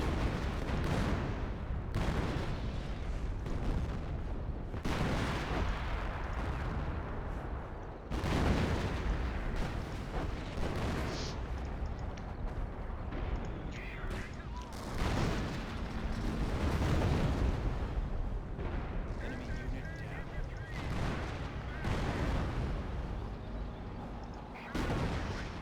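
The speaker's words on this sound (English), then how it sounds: "I'm trying to wipe out all of these repair bunkers with the creeping barrage." A creeping artillery barrage in the Company of Heroes video game, heard as a dense, continuous roar of booming explosions and gunfire that keeps rising and falling in loud bursts with no pause throughout.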